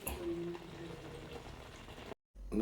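Curry leaves dropped into hot coconut oil crackle and sizzle in a dense, steady hiss close by, cut off briefly near the end before resuming.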